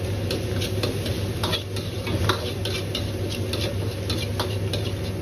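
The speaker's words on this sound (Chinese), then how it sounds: "继续多翻炒几下。" A wok stir-fry of dried chili pieces and bean paste with scallion, ginger and garlic gives a continuous sizzle, broken by rhythmic scraping taps of a spatula against the metal.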